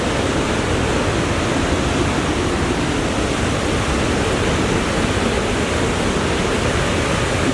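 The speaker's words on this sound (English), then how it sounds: "You can hear the roaring of the water." River water roars down over rocks in Landsberg am Lech, Bavaria, a loud, unbroken rushing wash close by with no voices.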